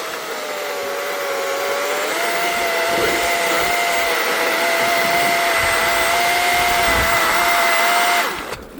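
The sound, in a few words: electric saw cutting ice blocks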